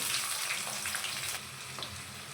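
Onion sizzles in hot oil with mustard seeds, curry leaves and dried chillies in a home kitchen, a steady close hiss with a few soft stirring clunks, no voices.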